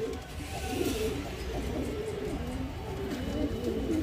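Pigeons coo in low, throaty, rolling calls, several birds overlapping close by against a soft background hum.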